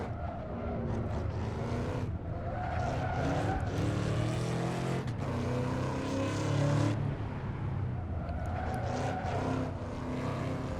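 Ford SVT Cobra lapping Laguna Seca, its engine roaring steadily up and down through gears with tire squeal, loud and close, no talk.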